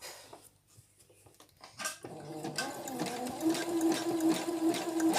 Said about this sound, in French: il va falloir venir le coudre bien au bord